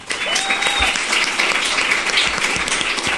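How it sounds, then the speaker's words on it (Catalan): A crowd applauds steadily, a dense wash of clapping from many hands, with a few voices and a brief whistle in the mix. "que són el Joan i la Sònia, un aplaudiment."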